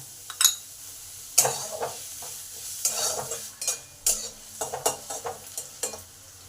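Sliced onions fry in a pan with salt while a spoon stirs them, producing steady close sizzling broken by repeated scraping strokes and light clinks against the pan, with no voices.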